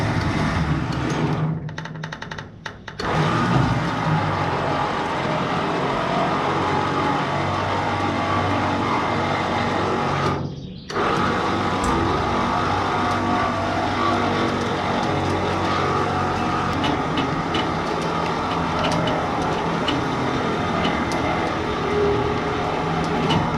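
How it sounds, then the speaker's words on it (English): A winch drags an abandoned AMC Javelin onto a trailer with a continuous loud mechanical grinding drone, broken by two brief pauses before the pull resumes. "I'm gonna fire up the winch here and see what we can get done."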